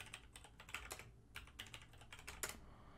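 Quick bursts of keystrokes on a computer keyboard as a password is typed into a terminal during setup of an Ubuntu box, crisp, close clicks in an uneven rhythm over about three seconds, no talking.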